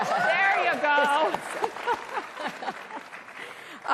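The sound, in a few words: audience applause at CPAC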